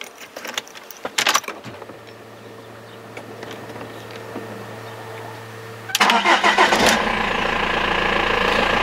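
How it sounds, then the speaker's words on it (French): A BMW E46 is started: keys rattle close by, a hum follows while the ignition is on, then the starter cranks and the engine catches into a steady idle. "Donc je démarre le véhicule."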